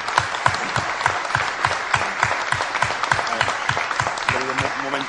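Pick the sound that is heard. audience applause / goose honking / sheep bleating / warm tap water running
audience applause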